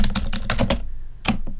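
Quick bursts of keystrokes on a computer keyboard as a file name is typed, close and clear, in an irregular rhythm of clustered taps with a short pause before a few final presses; no talking.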